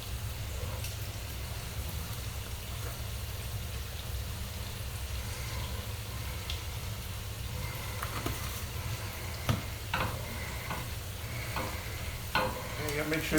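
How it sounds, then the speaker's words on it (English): Seasoned turkey meat and potatoes sautéing in a pan for goulash, a steady soft sizzle with intermittent stirring scrapes and clicks becoming more frequent toward the end, no talk. "Make sure you stir it up every now and then so everything evenly sautés and cooked good a little bit, potatoes and all."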